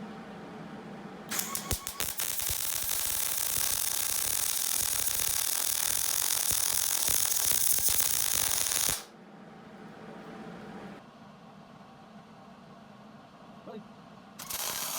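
Arc welding on a spare tire bracket, a loud continuous crackling buzz for about seven seconds after a few sputtering starts, then quieter background hum and a brief restart at the end.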